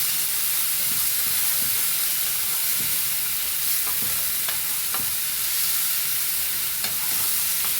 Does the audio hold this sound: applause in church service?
no